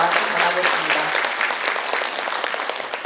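A lecture audience at a school-violence training session gives a full round of applause to thank a lawyer speaker, dense steady clapping throughout with faint voices mixed in.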